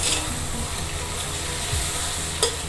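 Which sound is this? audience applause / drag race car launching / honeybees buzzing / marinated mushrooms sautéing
marinated mushrooms sautéing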